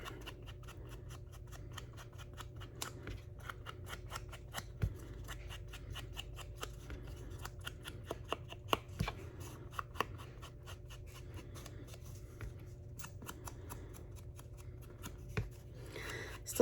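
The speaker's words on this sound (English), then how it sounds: "I just have to cut off a little bit of that backing." Scissors snip through the paper backing of a denim-themed craft tag, a string of quiet, close, crisp cuts in irregular rhythm with no talking.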